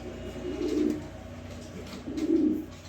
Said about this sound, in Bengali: খুবই সুন্দর সুপার কোয়ালিটি এক পেয়ার রেসার কবুতর।